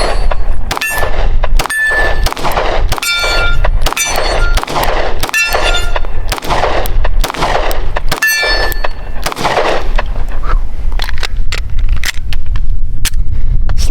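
A Springfield Hellcat pistol fires shot after shot in a rapid, uneven string across several magazines. The reports are loud, sharp and close, with metallic clangs of steel targets ringing between them.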